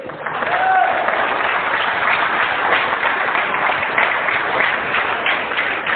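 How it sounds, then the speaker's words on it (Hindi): A seminar crowd in Ranchi claps loudly for the hosts, a broad, continuous wall of applause with a few faint voices mixed in. "सभी के लिए जोरदार ताली होना चाहिए"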